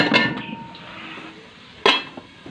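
Metal lid set onto a pot while pancit canton cooks, two sharp close clanks about two seconds apart, each with a short ringing decay.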